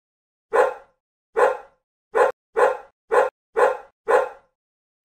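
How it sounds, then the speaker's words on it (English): A dog barks seven times in a steady, evenly spaced series, each bark loud, close and sharp with silence between, no other sounds present. "Dog."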